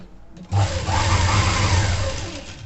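A sewing machine starts up and hums steadily as it stitches along a folded blouse hem. The motor sounds close and loud and runs without stopping once it gets going.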